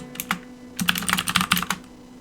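Rapid keystrokes clatter on a computer keyboard, a short burst of uneven clicking that thickens into a dense run before stopping, fairly close and alone with no talk.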